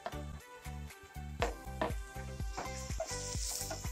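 Tomatoes and green chilies sizzle as they hit the oil of a Kerala-style crab curry base, a steady frying hiss with repeated scraping stirs knocking in a regular rhythm, close and fairly loud.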